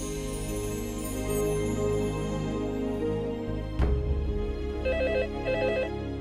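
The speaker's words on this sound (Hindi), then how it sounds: "इतनी रात को किसका फोन हो सकता है?" At night a telephone rings in a home, electronic ring bursts repeating in short pairs after some background music and a sudden crash, fairly clear and close.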